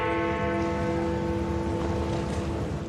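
Big Ben's great bell in London chiming, a loud sustained metallic tone with long ringing harmonics that hold and slowly decay, heard alone without voices.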